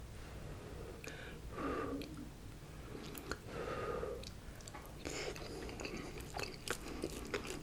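Close, quiet chewing and soft crunching of a baked potato with bacon and sour cream alongside baby back ribs and salad, in slow separate bites with faint breathing between them.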